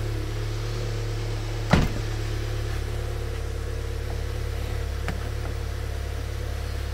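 A cold Volkswagen MK7 Golf GTI engine idles with a steady low hum, joined by one sharp knock early on and a fainter click later.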